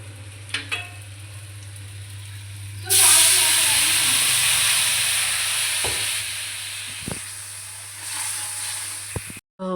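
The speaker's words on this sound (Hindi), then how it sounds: "तो अब हम अपनी सब्ज़ी पकाते हैं" Vegetable curry being cooked in a pan, which starts to sizzle loudly as food goes into hot oil, then fades slowly into a softer frying hiss, with occasional clatters and a low background hum.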